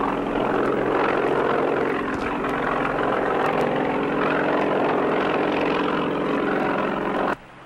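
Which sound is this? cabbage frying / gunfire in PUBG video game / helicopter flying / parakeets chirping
helicopter flying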